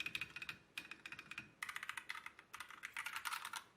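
Soft, muffled keystrokes patter in quick bursts, steady close typing on a mechanical keyboard with low-force linear switches, without sharp clicks.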